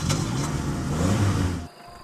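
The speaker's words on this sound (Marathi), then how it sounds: "पुन्हा गाडी स्टार्ट केली आणि तुफान वेगात पळवली" A car engine roars and revs loudly, then cuts off abruptly, at night on a lonely road in the Konkan region.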